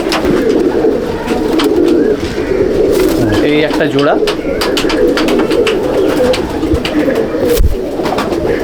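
Restless young pigeons from a champion racing bloodline coo steadily at close range in a Mominpur loft, with a voice speaking briefly over the birds and soft scuffling in the middle.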